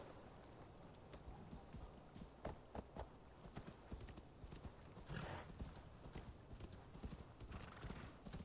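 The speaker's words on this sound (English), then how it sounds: "it's telling me to summon the horse" A horse in Assassin's Creed Valhalla clip-clops steadily over faint in-game ambience, with a brief neigh partway through, all quiet and distant in the mix.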